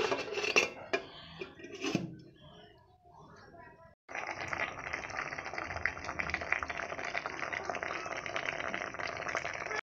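Bitter helencha potatoes simmering in a covered pot on a gas stove, giving a steady, dense bubbling hiss that begins abruptly after a few seconds of kitchen clatter and continues evenly to the end.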